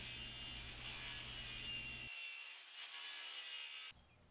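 A circular saw cuts through PVC pipe for a homemade gravity corn deer feeder, a steady, fairly loud whining buzz with no talking that holds for about four seconds before stopping abruptly.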